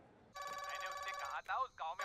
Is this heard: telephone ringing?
yes